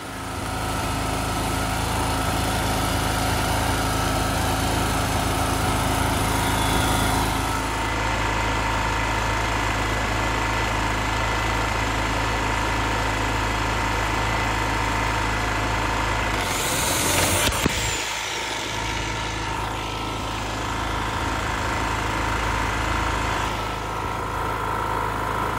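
A petrol generator drones loudly and constantly nearby at a construction site, with a brief dip and rattle midway before the steady roar resumes.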